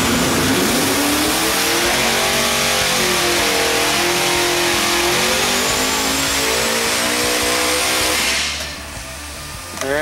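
A small-block Chevy fitted with a Vortech supercharger revs hard through a dyno pull, a loud, close engine howl that climbs steadily in pitch with blower whine above it before it suddenly cuts off near the end.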